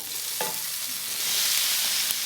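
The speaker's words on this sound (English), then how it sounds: "Look at that sizzle." Steady, bright sizzling of peppers, onions, tomatoes and jalapeños frying in a hot pan, close and fairly loud, with a few soft clinks of stirring.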